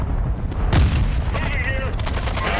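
Sniper gunfire in a shooter video game comes as one loud, booming crack early on, followed by rumbling game noise while players talk.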